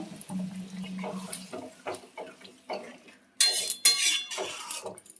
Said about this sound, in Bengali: এটাকে ভালো করে কষবো